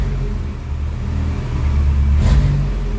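A car engine revs under throttle, a close, loud rumble that swells in a brief rising rev before easing back.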